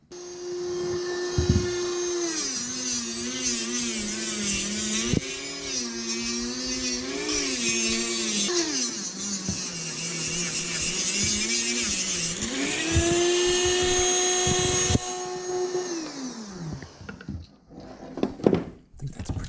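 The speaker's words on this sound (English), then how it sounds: "We're pretty much done drilling inside this thing" A high-pitched power drill whines inside a fuel pump part during a Walbro 525 pump upgrade, its pitch rising and falling in bursts over about twenty seconds before stopping with a few clicks near the end.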